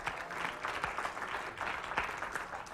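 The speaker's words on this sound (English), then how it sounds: "We're clapping because you were honest about it." Group hand clapping, a fairly quiet, loose patter of claps from several people continuing steadily without a clear end.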